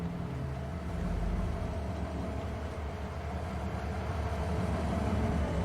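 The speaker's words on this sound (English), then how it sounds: "Oh, there's the train now. It's coming. It's going to stop now" A freight train in Farming Simulator 22 rumbles steadily as it arrives and slows to a stop, a continuous loud low mechanical drone with no talk over it.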